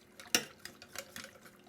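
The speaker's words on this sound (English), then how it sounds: "So in goes the potato water." Potato water poured into a pan for gravy, a short splash and clatter followed by light scraping and sloshing sounds in a kitchen, fairly close and moderately quiet.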